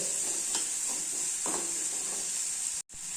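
Onions sauté in oil in a pan, giving a steady, even sizzle close up with a few soft stirring scrapes, then a brief cut to silence near the end before the frying resumes.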